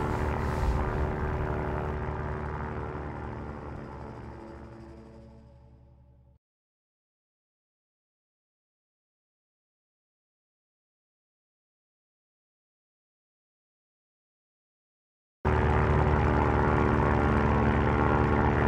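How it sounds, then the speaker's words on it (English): A propeller airplane in the survival game Stranded Deep drones steadily up close, its engine roar fading for several seconds, cutting to silence, then returning loud and constant. "Looks like we've gotten our plane well underway."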